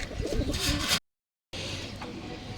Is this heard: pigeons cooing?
yes